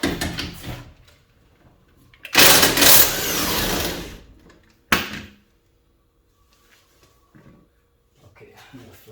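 Impact gun spinning off bolts while fitting coilovers to a Miata: one loud buzzing burst of about two seconds, then a short sharp clank, with quiet garage shuffling afterward.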